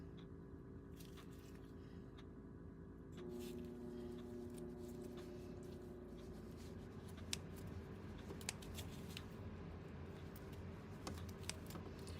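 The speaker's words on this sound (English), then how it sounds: "These are my studio scissors," Studio scissors snip in an oil painting artist's studio, giving a series of quiet, crisp clicks and cuts over a constant low hum.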